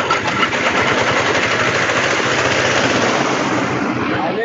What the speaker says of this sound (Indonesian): digiling untuk sampah yang dari kita kumpulkan di pasar dan dari pasar Temanggung dan pasar Parakan